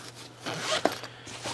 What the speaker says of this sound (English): the bag's got like a flap in the front with a zipper